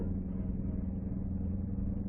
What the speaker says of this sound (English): Once more, the powerful, low-slung car sped through the back streets of the city.